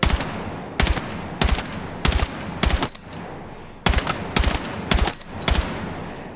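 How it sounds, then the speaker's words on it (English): Automatic gunfire in the video game Battlefield 6: eight or nine loud, separate bursts of rapid shots at a steady rhythm, each followed by a brief echoing tail, with no talking. "let's get long distance firing"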